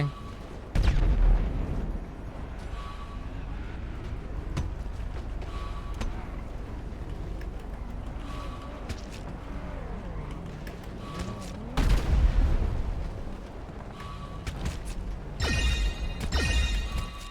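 Gunfire in a GTA roleplay game: scattered sharp shots and bursts crack over a low rumbling background, loudest near the start and again toward the end.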